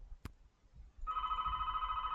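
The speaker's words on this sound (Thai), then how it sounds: "มีคนโทรมา" A phone rings in the horror video game Ritual, a steady electronic trill that starts after a brief sharp tap and carries on continuously, clear and fairly close.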